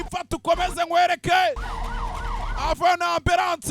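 An ambulance siren wails in a rising and falling sweep, clearest in the middle, while someone talks loudly over it before and after.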